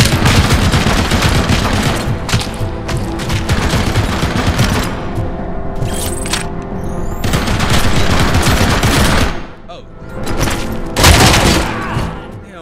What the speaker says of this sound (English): Shooting at my partner.